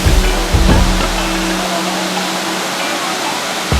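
Misol-Ha waterfall in Chiapas, a river pouring over a rock cliff, heard as a loud, continuous rushing roar with a low rumble fading partway through.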